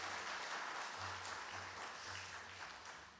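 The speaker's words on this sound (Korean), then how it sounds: "우리 한나의 인생을 축복하며 박수 한번 하겠습니다." Church congregation clapping during a Sunday service, a soft, distant round of applause under a steady low hum that fades slightly toward the end.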